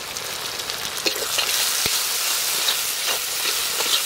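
Tomato, turmeric and salt land among spices frying in a pan at an outdoor village picnic cookout, giving a steady close sizzle with a few sharp pops and crackles, no voices.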